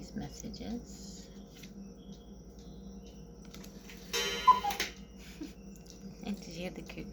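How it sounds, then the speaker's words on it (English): A cuckoo clock ticks steadily in the background of a room, with a brief louder burst of its call near the middle, heard under faint speech. "And did you hear the cuckoo clock?"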